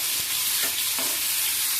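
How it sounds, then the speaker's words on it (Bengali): Chopped tomato sizzles in hot oil with chillies in a continuous hiss, with a few soft stirring knocks. "লঙ্কাটা হালকা ভাজা হয়েছে, এবার আমি টমেটো কুচি দিয়ে দিলাম।"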